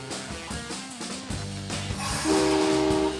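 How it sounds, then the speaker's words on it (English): A train rumbles with shifting tones, and a steady horn-like whistle sounds clearly near the end. It is fairly loud and close. "There's a big choo-choo train."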